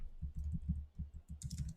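Rapid keystrokes on a computer keyboard, a steady run of soft, close clicks with a brief pause, then a final flurry of sharper taps, no voices.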